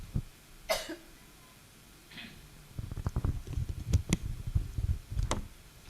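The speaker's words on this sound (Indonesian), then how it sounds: "ganti-gantian dari hari Senin batuk" Several sharp coughs, a couple early and then a cluster of rapid, throaty coughs with breathy rasp, close and fairly quiet, from a person with a sore throat, in a quiet indoor setting without speech.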